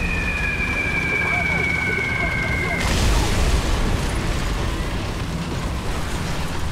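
A bomb blast in the tank battle game War Thunder. A steady high whistle slides slightly downward, then cuts off into a broad, rumbling explosion that fades into constant battlefield noise.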